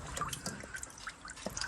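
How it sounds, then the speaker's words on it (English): Water drains from the cooling system of a Valiant VH Charger engine during a water pump rebuild, a faint, close trickle with scattered small drips and splashes running continuously. "So I'm just draining out the rest of that water."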